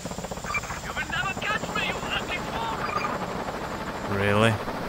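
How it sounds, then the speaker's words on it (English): A helicopter flies in the video game Just Cause, its rotor producing a continuous chopping drone that swells louder near the end, mixed with game effects and an excited voice talking over it. "That chopper is so cute though"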